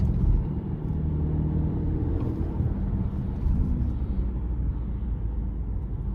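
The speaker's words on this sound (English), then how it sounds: "Really, really good turbo pull. It takes a minute to spool up, but once it does, it's good to go." Turbocharged four-cylinder engine of a 2023 Subaru Ascent Limited accelerating in manual mode, heard from inside the cabin as a steady, deep droning rumble that holds fairly constant throughout.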